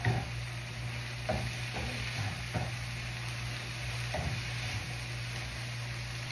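A spatula stirs sautéed dried small fish (bulinaw) through a pan with a steady broadband sizzle; scraping strokes come at irregular intervals, close and moderately loud, with a low steady hum beneath.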